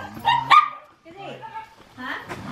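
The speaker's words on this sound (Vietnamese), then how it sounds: "Đây là cá thể chó hơ mông cộc vàng cái" A female yellow H'Mong bobtail dog barks and yips in short sharp bursts close by, mixed with a whimper, while people talk over and between the barks.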